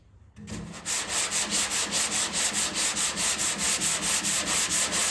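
Body filler on a car tailgate is sanded with fast, even back-and-forth strokes, a loud rhythmic rasping repeated about twenty times after a brief quieter start, close up and without speech.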